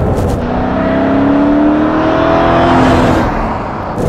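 A 1994 Mercedes E 500 Limited V8 accelerates hard in a low gear, its engine note climbing steadily and loud from inside the car before easing off near the end.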